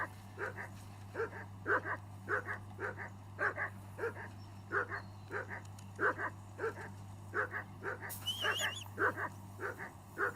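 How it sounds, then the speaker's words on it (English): A dog barks steadily in short repeated pairs of yips over a low constant hum, with a brief whistle-like tone near the end, in the video game Kingdom Come: Deliverance II. "whistle at that mutt of yours to stop barking."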